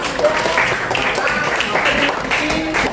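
A classroom of students claps for a winning group, lively and fairly close, with children's chatter and voices mixed throughout the applause.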